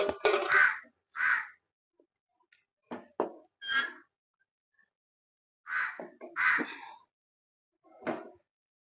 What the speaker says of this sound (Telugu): మన కాకి కూడా వచ్చేసిందండి